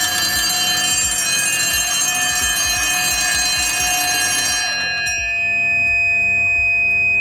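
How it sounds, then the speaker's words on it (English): A loud Honeywell Xenex fire alarm rings continuously with a shrill tone, then cuts off abruptly partway through, leaving a steady lower beeping tone. "Once your fire alarm is going off"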